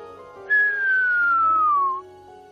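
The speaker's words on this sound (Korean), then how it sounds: "이건 휘파람 부는 사람이라고 불리는 신호인데 아, 번개가 만드는 작품입니다" A whistler radio signal produced by lightning: a single clear descending whistle tone glides smoothly downward for about a second and a half over faint background hum.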